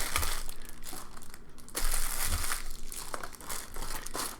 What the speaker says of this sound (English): let's throw some of this plastic inside the box